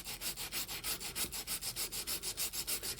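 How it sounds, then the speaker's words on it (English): Steady rhythmic sanding strokes on layered Eco Pour resin, a safe epoxy alternative, with a hook-and-loop pad, each back-and-forth pass rasping loudly and evenly, close up, with no talking. "So let's see what happens if we sand"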